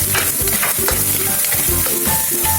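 Meat and chili sautéing for laing in a hot pan, a steady loud sizzle with repeated stirring scrapes throughout, no voices.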